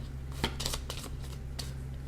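A handful of quick, soft riffles and slides of tarot cards being shuffled close by, four or five short bursts over a faint steady hum.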